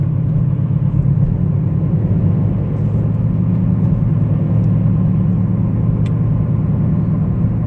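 A 2014 Honda Civic Si sedan drives along, its engine a steady, low droning rumble blended with constant road and tire noise inside the cabin, with no talking.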